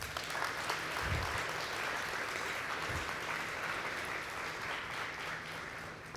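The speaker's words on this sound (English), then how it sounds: "Can we give a round of applause again?" Sustained audience applause fills a conference hall, a dense even clatter of many hands clapping close by that holds steady for several seconds, with no speech over it.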